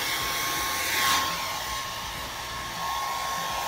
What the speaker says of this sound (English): But first, blow dry my hair because it's really wet.